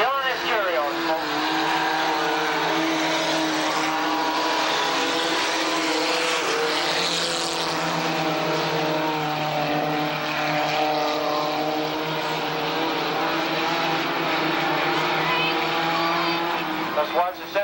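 Race cars circling the Tonopah Speedway dirt track in 1989, with a continuous roaring drone of engines sweeping past, mixed with a crowd and an announcer's voice.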